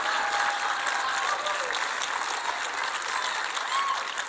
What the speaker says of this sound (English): that is the applause line.